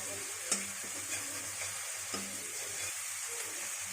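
Ginger garlic paste fries with onions in a pan for a butter chicken dish, giving a constant sizzle broken by a few stirring clacks, with no talk.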